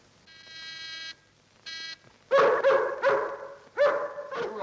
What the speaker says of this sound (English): Don't like the sound of that dog.